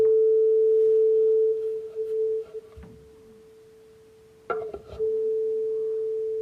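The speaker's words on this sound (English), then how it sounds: "we have two of the exact same tuning forks and same sound boxes" A tuning fork mounted on a sound box gives a steady pure ringing tone for several seconds, briefly interrupted by soft knocks and handling noises, then resumes ringing clearly.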